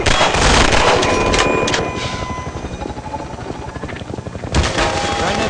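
Rapid bursts of gunfire crackle loudly over a steady pulsing rotor thump from a helicopter in the video game Half-Life 2, with a sharp blast near the end.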